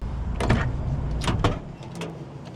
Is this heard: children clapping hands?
no